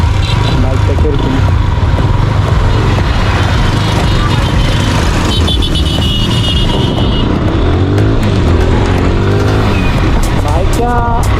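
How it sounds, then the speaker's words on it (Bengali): A GPX Demon 165 RR motorcycle is ridden, its engine roaring loud and close with revving and pitch changes that rise and fall across the ride, mixed with wind and road noise. "ডেমন 165 আর রাইড করবো এখন এটা আমি রাইড করবো।"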